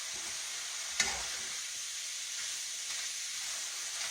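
Red pepper chunks sizzle in a pan with a steady, even hiss and a brief stirring clatter near the start; no talking.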